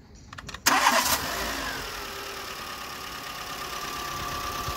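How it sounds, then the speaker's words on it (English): A 2009 Renault Clio III engine is started: a brief starter crank with a few stutters catches quickly and settles into a steady, moderately loud idle that runs on alone. "Now what we're going to do is start the vehicle up."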